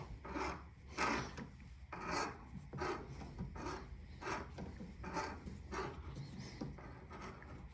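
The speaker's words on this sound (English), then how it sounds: "You gotta go until it doesn't make any noise." A thread tap is worked through a metal tube for an under-cabinet air tool hanger, producing close, rhythmic rasping strokes roughly every second, each a scraping burst with quieter gaps between, no voices present.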